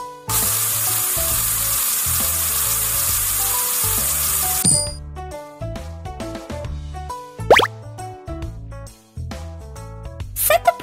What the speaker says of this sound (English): Use the fruit spray.